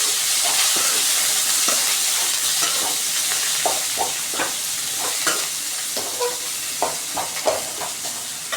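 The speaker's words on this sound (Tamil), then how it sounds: "இப்போ நல்லா வதக்கிக்கோங்க." Green chillies, coriander and curry leaves sizzle steadily in a hot pan while being sautéed for a fish curry, with a run of light scraping stirs that grow more frequent toward the end.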